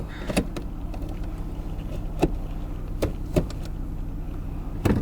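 A 2009 Toyota RAV4 4WD SUV with a 3.5L engine and tow hitch sets off on a test drive. A steady low cabin rumble carries on throughout, broken by sharp interior clicks and knocks.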